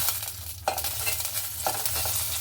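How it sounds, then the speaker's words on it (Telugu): Green and red chillies fry in oil for an amla pickle, a steady close sizzle with two brief stirring scrapes partway through. "ఇంకో కొంచెం ఆయిల్ వేసుకొని పచ్చిమిర్చిను ఎండుమిర్చి వేయించుకోవాలి"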